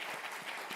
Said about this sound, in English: Big applause to Mr.